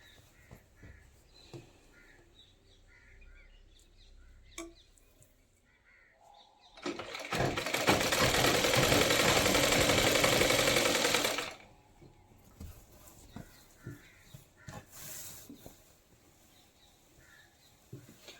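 A sewing machine runs in one steady burst for about five seconds, stitching the waistband of a Rajputi kalidar lehenga, with quieter handling sounds and faint crow caws before and after.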